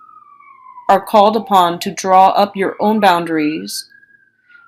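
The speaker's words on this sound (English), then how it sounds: "excuse the siren" A distant siren wails faintly, its tone sliding slowly up and down beneath someone speaking close to the microphone.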